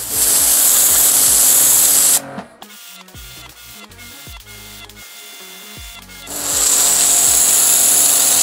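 A Cecotec Hidroboost 3200 Pro pressure washer blasts a concrete floor with a loud, close, hissing spray. It cuts to a quieter stretch of clattery mechanical noise in the middle, then the roaring jet returns.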